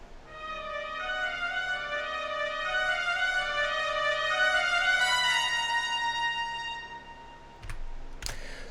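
MIDI orchestral trumpets play a repetitive, building motif of sustained brassy notes that rise in pitch and swell in intensity, fading out near the end with a couple of sharp clicks.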